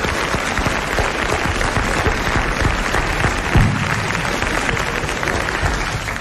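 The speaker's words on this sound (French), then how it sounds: "je vais vous demander d'applaudir monsieur Nicolas Jacques de Reims" A studio audience applauds a guest on a 1981 French television show, a loud, dense and steady wash of clapping from many people that lasts the whole stretch without breaking.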